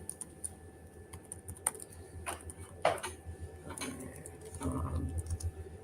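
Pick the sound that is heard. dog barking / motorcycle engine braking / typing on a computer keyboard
typing on a computer keyboard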